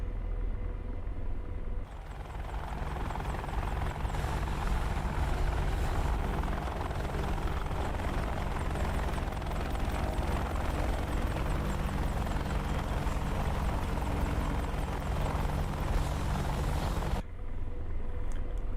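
AH-64D Apache Longbow helicopter in the DCS flight simulator game, a loud continuous rotor and turbine roar holding steady throughout, with the sound cutting in and out abruptly at either end.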